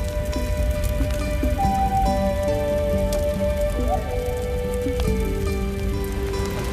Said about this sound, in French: C'est alors que de gros nuages couvrirent le ciel et firent tomber la pluie.